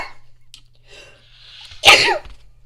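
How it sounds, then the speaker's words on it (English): A single sharp allergy sneeze bursts out close to the microphone after a brief quiet inhale, loud and abrupt against a near-silent room. "that's always an allergy sneeze if I sneeze like that."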